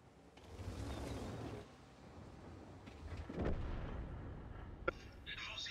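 Tank gunfire and artillery in the World of Tanks video game, muffled rumbling booms and one sharp report, fairly faint beneath game ambience.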